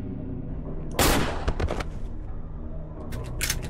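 A magnum revolver fires in the horror video game Cry of Fear: one loud, sharp blast stands out over a low game ambience, followed by a few fainter clicks and a second crack near the end.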